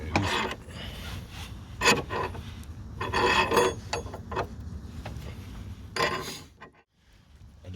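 Car jack raising a Hyundai i20 off the ground for a spare wheel change, heard as intermittent mechanical rasping and ratcheting bursts, close by, with pauses between strokes and no talking.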